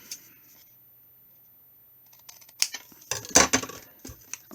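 Scissors cut through paper for a handmade pop-up album, snipping in a short burst of sharp crisp clicks after a quiet pause, close and fairly loud with no talking.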